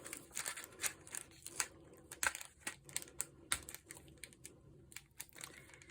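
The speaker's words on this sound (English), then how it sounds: "I'm just peeling off this tear and tape." Tear-and-tape adhesive peeled from its backing while making an ice cream shaker card, giving close, crackly bursts and sharp crinkling snaps in an uneven rhythm, with no voices.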